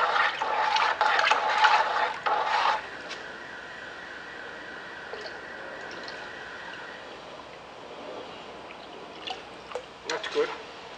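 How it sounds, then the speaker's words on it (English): Dechlorinated water is poured to top up a container of microbial soil inoculant mix, a short splashing pour at the start that fades into a quieter trickle and occasional drips. "I have some more dechlorinated water, and I'm gonna top it up maybe another 1 inch."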